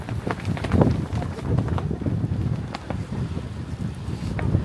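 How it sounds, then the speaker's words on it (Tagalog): Cold wind gusts buffet the microphone beside the stone wall of Deoksugung palace, a steady rough rumble with faint voices mixed in. "Humangin pa."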